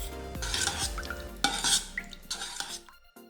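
Korean chili powder being mixed into strained, cooled sauce for a chive dish, giving soft scraping and clinking stirring strokes in a bowl, close and fairly quiet, with no talking.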